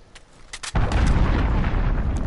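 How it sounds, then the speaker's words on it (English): An enemy cruise missile strike in the video game Call of Duty Modern Warfare: a few faint clicks, then a sudden loud explosion that hits hard and decays into a sustained roaring rumble. "Enemy cruise missile, take cover."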